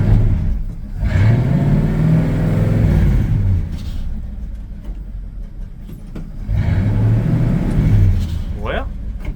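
A 1978 Chevrolet C10 pickup truck engine revs up and down in two loud rumbling swells, close by, with people talking over it.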